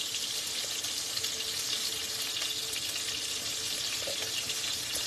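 Boneless ribeye steaks searing in a hot pan, a steady bright hiss of sizzling fat that holds evenly throughout, close and fairly loud with no speech.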